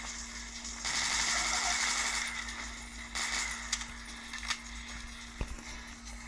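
Rapid automatic fire from a Scorpion submachine gun in the video game Dead Trigger: one longer burst, then a short second burst, followed by a few scattered clicks.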